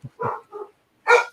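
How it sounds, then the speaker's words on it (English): A dog barking indoors, a few short nearby yips and barks in quick succession followed by one louder bark. "And now my dog's going to start."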